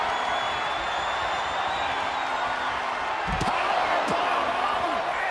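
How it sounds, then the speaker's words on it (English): Powerbomb in the wrestling game WWE 2K24, heard as heavy thuds on the ring mat, one deep slam followed by a second impact, over a constant roaring arena crowd. "Powerbomb!"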